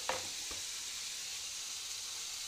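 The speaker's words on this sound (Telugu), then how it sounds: "టమాటా ముక్కలు వేసుకున్నాం. ఇది కూడా బాగా వేయాలి." Onions and tomato pieces fry in a pan for chicken curry, giving a soft, steady sizzle with a couple of brief stirring clicks near the start, no voices.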